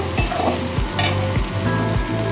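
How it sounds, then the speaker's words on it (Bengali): Spice paste with cumin paste and a splash of water sautéing in a pan for a pointed gourd and prawn curry, a close hissing sizzle under regular scraping stirs, no one speaking. "আবারও কিন্তু সামান্য পরিমাণে জল দিয়ে মশলাটা কষিয়ে নেব"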